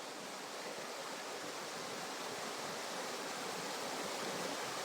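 Heavy rain pours down as a dense, continuous hiss, steady and enveloping throughout with no voices.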